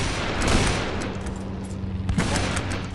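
Gunfire in World War Heroes, a wartime shooter game, with rapid rattling bursts and sharp cracks of shots, close and loud, a sustained volley followed by scattered individual reports.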